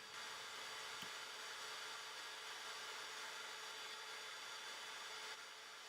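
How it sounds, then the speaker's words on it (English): A power drill sanding the first coat of paint on a rippled sculpture gives a steady, continuous broadband whir, close and unbroken for the whole stretch, with no voices. "After the first coat is dry, it's back to the drill for another round of sanding."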